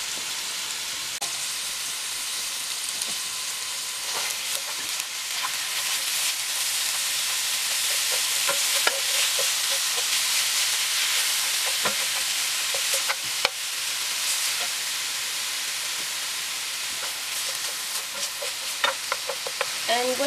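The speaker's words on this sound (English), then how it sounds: "So now I'm just going to pop my meat in my pan and fry that up." Minced beef fries in a pan with a little olive oil, giving a continuous loud sizzle with occasional crackles and stirring scrapes, no voices over it.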